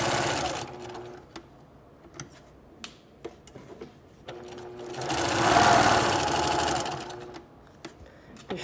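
A sewing machine stitching a princess line bodice seam, short bursts of rapid mechanical ticking separated by pauses, then a longer steady run of stitching near the end.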